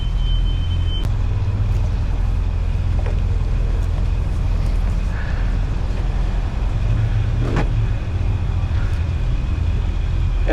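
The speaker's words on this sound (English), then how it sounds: "And we'll go ahead and motor away." A small boat's engine runs steadily as it motors away from the dock slip, a continuous low rumble with wind and water noise over the whole stretch and no talking.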